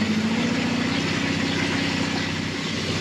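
A 1979 Kawasaki KZ motorcycle engine idles steadily on choke after starting, a loud, continuous, even low rumble with no pauses, heard alone.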